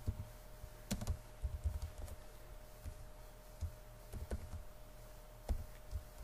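Keys clatter on a computer keyboard in short irregular bursts of tapping, faint and close, while pseudocode for matrix operations is being written, with no speech over it.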